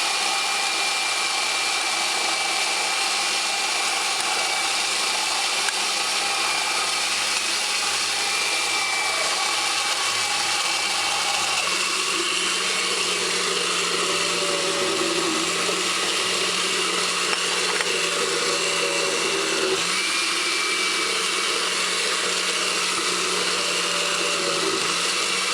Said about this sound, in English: Allow the blender to rotate on high speed for between 3 minutes.